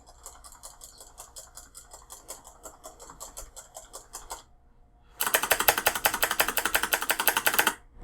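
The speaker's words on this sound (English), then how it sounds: "Let's listen to the Razer space bar." Rapid clicking keyboard presses rattle quietly at first, then after a short pause a louder, brighter burst of repeated Razer keyboard space bar clacks follows.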